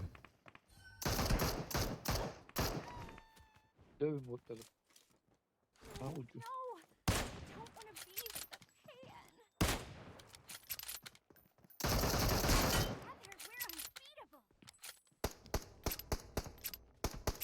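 Gunfire in a shooting video game, with long bursts of rapid automatic fire alternating with single shots and quiet gaps, and a person talking between the volleys.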